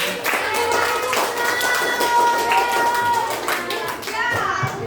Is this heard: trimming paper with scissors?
no